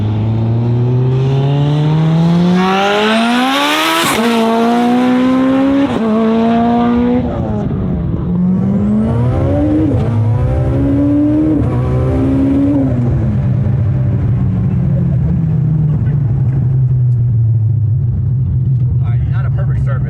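A 600-horsepower race car launches hard at a drag event, its engine screaming up through several quick gear changes before the note fades into a distant, lingering rumble; loud and close at first, with background crowd and voices.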